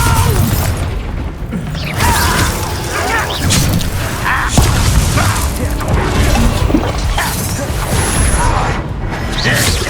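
A Confringo blasting spell goes off during a duel in Hogwarts Legacy, with loud booming impacts, crashes and whooshing spell effects that overlap continuously, and game voices faintly mixed in.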